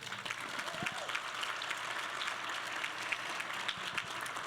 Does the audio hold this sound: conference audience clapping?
yes